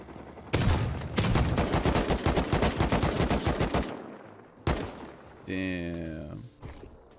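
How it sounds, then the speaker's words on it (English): A scientist in the game Rust opens fire in a long rapid burst of close gunshots, then a lone shot, followed by a short voice and another sharp crack. "Scientist shoots me, got me down to 13 health."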